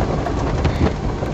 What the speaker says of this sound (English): I wish it would stop raining so I can get a better shot outside.